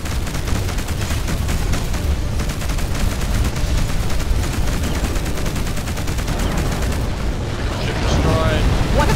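Space battle in Between the Stars, with an enemy spaceship destroyed amid sustained rapid weapon fire and rumbling blasts, a loud, continuous barrage that swells near the end.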